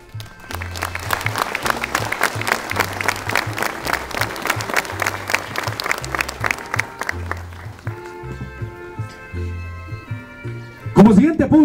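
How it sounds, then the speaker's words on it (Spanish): Applause from an audience welcoming council members at a ceremonial entrance of flags, a dense wash of clapping over a low rhythmic band beat, thinning near the end as a sharper sound cuts in. "ruego a ustedes recibirlos con fuertes y calurosos aplausos"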